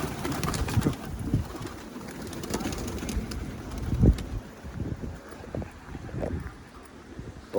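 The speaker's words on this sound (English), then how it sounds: "pigeons." Outdoor ambience along a canal in London with birds and pigeons cooing intermittently, a few louder calls standing out against steady wind and low rumble.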